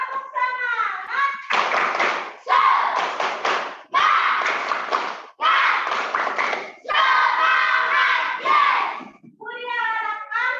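Children in an online Zoom class perform a rhythmic spirit-clap chant, with short bursts of fast clapping in a patterned beat separated by brief pauses and sung or chanted voices at the start and end.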